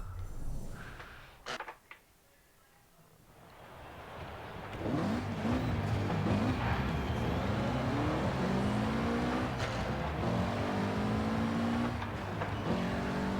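Engine of a 1992 Mitsubishi Galant VR-4 with a 2-liter engine in Forza Horizon 4, loud and continuous, revving through rising and falling gear pulls with a grinding edge after a brief quiet lull at the start.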